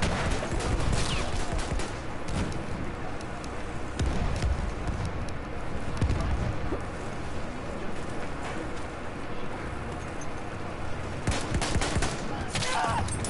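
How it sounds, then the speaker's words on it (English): Heavy machine gun fire in Battlefield 1, dense rapid rattling shots and distant gunfire running nearly nonstop through a chaotic battle, with louder bursts near the start and end. "There's a heavy MG out here also."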